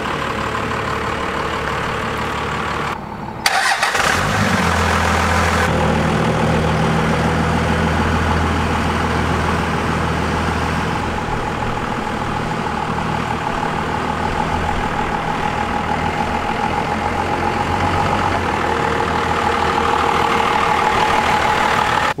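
A 5th gen Cummins diesel truck engine catches with a sharp start, then settles into a loud, deep, steady idle rumble that continues close by for the rest of the clip.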